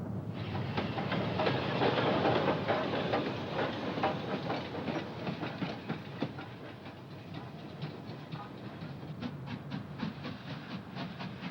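Steam locomotive number 5025 of the Strathspey Railway runs along the line toward Inverness, its loud hissing exhaust and rhythmic clickety-clack of wheels carrying on steadily close by, easing slightly after a few seconds, with no voices.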